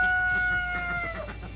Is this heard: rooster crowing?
yes